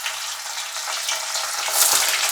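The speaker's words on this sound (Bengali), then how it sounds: "এবার আমি এগুলোকে ভেজে নেব" Paneer pieces fry in hot oil with a steady, bright, hissing sizzle, close and fairly loud, swelling slightly near the end, with no talk.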